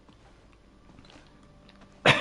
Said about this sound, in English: To have these nuts makes me cough